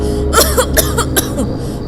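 A woman coughs amid smoke, giving a few close, harsh coughs and throat-clearing bursts in quick succession over a low background hum.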